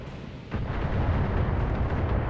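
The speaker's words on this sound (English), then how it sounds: "And there's that indirect missile fire I knew was coming" Indirect missile fire bursts against a mech in BattleTech, a sudden loud rumbling barrage of explosions that rolls on thickly for about two seconds.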